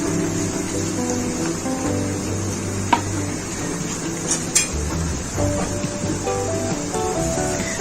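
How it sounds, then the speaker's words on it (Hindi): Onions lightly frying in a pan while a sour eggplant (khatta baingan) curry is being made; a steady, close sizzle runs throughout with occasional stirring scrapes and clinks of a utensil against the pan, no voices. "इस टाइम पे प्याज को हमने हल्का सा इसमें फ्राई कर लेना है"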